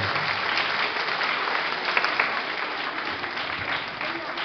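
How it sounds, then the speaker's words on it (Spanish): Parents and children at a school clap loudly for the mothers, a thick, sustained wave of applause that holds steady throughout with no break. "Un aplauso para las mamás"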